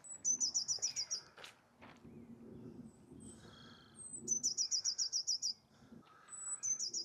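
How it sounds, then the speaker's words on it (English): A great tit or blue tit sings outdoors along a flooded greenway, bright rapid repeated chirping phrases in two bursts separated by quieter calls and low background rumble, fairly close and clear. "Great tit or blue tit, tweeting away beautifully."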